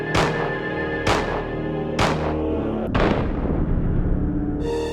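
A nickel-plated Colt Python magnum revolver fires in the game Resident Evil Survivor 2 Code: Veronica. Four heavy, booming shots come at roughly one-second intervals, each followed by a decaying echo.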